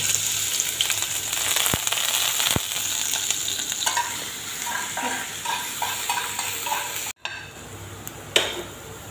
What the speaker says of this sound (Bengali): তেলের মধ্যে প্রথমে দিলাম আদা কুচি